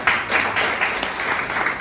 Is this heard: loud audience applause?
yes